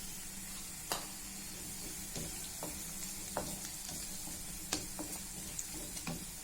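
Chopped onion fries in a pan with turmeric and salt, giving a steady, close sizzle with a few sharp scrapes and clicks from stirring.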